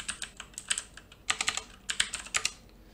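Numbers tapped out on a computer keyboard, short bursts of crisp close key clicks in quick irregular clusters with brief pauses between, no talking.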